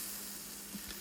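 Garlic, crushed dried chilli and curry leaves fry in hot oil for a dal tempering, giving a close, continuous hissing sizzle with a few small pops.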